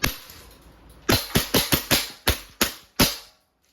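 Nine sharp airsoft pistol shots from a WE Glock 35 with a silver slide, fired semi-auto in an uneven rhythm, each crack close and loud with a short tail, no talking.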